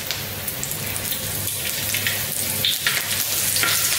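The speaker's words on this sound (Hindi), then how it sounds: "तो ये जो आपको हमने थीकी वाली मिर्च दिखाई थी ना, अब हम इसको फ्राई करेंगे इसी ऑयल में।" Hot chili peppers fry in hot oil while making batata vada, with a loud, close, continuous sizzle and crackle and occasional stirring clatter throughout, no voices.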